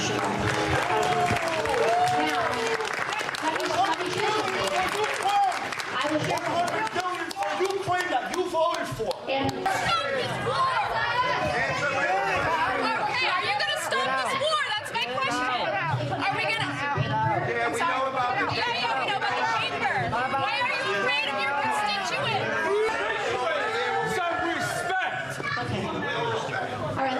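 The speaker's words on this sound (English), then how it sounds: "The pandemonium within the crowd continued through what was supposed to be a question and answer session" A rowdy crowd at an Alexandria Ocasio-Cortez town hall in Queens fills the room with loud, continuous shouting, clapping and chatter, a dense roar of many voices that never lets up.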